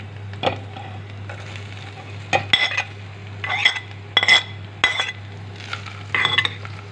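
Vegetables go into a pan over a steady low hum, and a utensil stirs them with repeated clinks and scrapes against the metal in irregular bursts.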